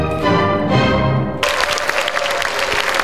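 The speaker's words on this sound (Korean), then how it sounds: "멋진 연주에 보답하는 관객들의 박수가 한가득 쏟아집니다." Audience applause bursting out after a symphony orchestra performance of Brahms's Symphony No. 1, the final orchestral chord ringing briefly before dense, steady clapping fills the hall.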